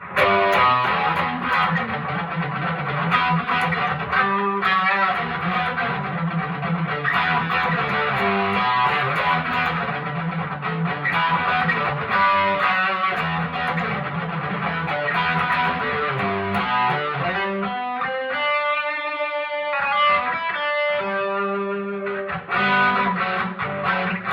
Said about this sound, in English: So this pedal can do distortion, even though it's a, you know, technically a drive pedal.